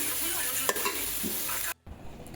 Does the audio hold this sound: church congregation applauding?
no